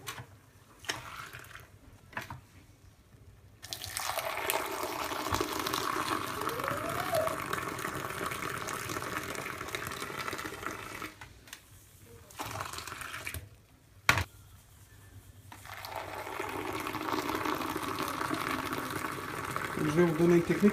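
Sweetened desert tea poured back and forth between vessels to blend in the sugar: a thin, splashing liquid stream that runs for several seconds, breaks off briefly and starts again, fairly quiet and close.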